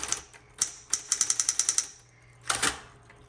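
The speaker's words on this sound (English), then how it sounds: "So this is a great typewriter for kids and casual writing." Typing on a 1960s Smith Corona Electra 210 electric typewriter: sharp, loud key strikes close by, a quick run of evenly spaced clacks after a few scattered ones, then a pause and a final burst over a steady motor hum.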